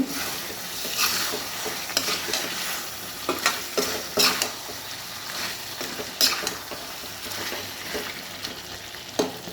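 Spicy chicken gravy sizzling in a pan while a spoon stirs and scrapes, with irregular bright clinks and scrapes over a continuous frying hiss.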